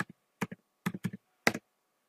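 Short bursts of typing on a computer keyboard as terminal commands are entered, with crisp close key clicks grouped in quick clusters separated by brief pauses, in an otherwise quiet room.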